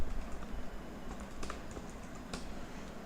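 Someone types on a computer keyboard, with soft, fairly quiet key clicks in an uneven patter over a steady background hum and a few slightly louder keystrokes.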